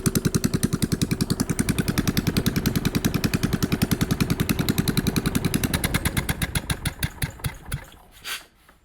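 A stationary Kohler K301 engine, its idle set a little high and leaking gas, runs with a rapid, steady close-up firing beat before slowing and sputtering to a stop near the end.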